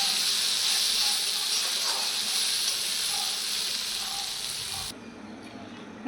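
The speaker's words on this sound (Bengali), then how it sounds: "তো আমি এখন চাল কুমড়ো ভাজা বানিয়ে নেব" Ash gourd pieces sizzle in a hot pan in a dense, even hiss that drops away abruptly near the end.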